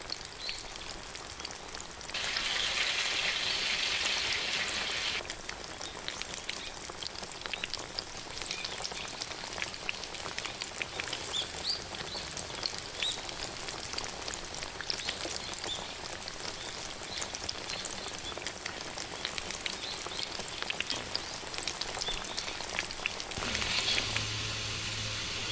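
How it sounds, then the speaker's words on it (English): Potatoes deep frying in hot oil, a steady, dense sizzle and crackle that grows sharper as they go into the oil and holds strong throughout, with no talking. "Gently lower them into hot oil. Listen to that beautiful sizzle."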